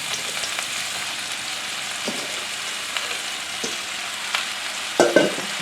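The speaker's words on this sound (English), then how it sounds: "Start adding the onions. Make sure your frying pan is big enough for all the onions." Steady sizzling of onions frying in a large pan for French onion soup, with occasional soft scrapes and clinks of a utensil stirring, fairly loud and close, no voices.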